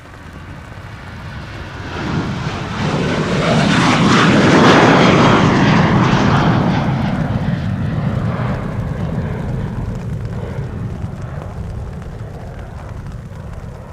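An ITA airliner in dark blue livery departs from Polderbaan runway 36L at Amsterdam Schiphol in rain showers, its engine roar swelling to a broad peak as it passes and then fading into a long, dull rumble.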